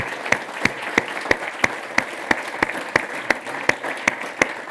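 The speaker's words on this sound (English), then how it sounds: "Can we have a final round of applause for Giovanni, Scott, and Jamie?" An audience at a conference on decarbonising the built environment applauds the speakers. The clapping is steady and fairly close, with a few distinct louder claps standing out at a regular pulse over a dense wash.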